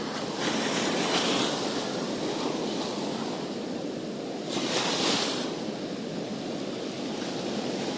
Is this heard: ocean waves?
yes